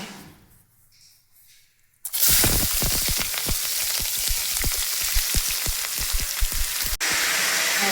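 After a quiet start, onions hit hot oil and sizzle loudly and continuously, with crackling pops throughout.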